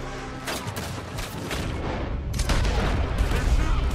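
Gunfire from a shootout in Red Dead Redemption 2 crackles in loud, rapid bursts, with sharp shots layered over a rumbling din that swells heavier toward the end.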